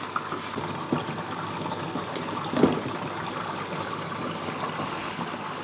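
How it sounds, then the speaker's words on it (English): Water pours steadily through a newly fitted TEMU aquarium filter in a fish room, with valves adjusted so it spills. It sounds like a continuous trickling, splashing wash with a small splash in the middle, and no voices. "if I just shut or open these valves a bit, you should start to see water coming through and spilling everywhere"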